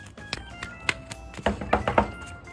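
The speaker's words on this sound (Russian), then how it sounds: "Да кто тут стучит?" Sharp knocks on a door at home, a few scattered raps followed by a quicker cluster of three or four near the end, fairly close and crisp against a quiet room.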